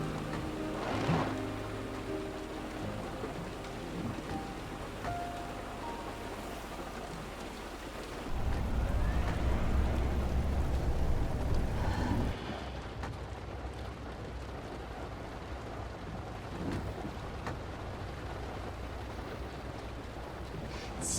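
Quiet, steady rainfall patters on and on, while a deep, low rumble of thunder swells partway through and then fades back into the rain.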